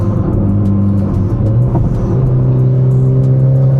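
Loud, close engine of a Mitsubishi Lancer Evolution X FQ-440 MR sports car revving and accelerating, with a deep rumble that climbs in pitch as it pulls away.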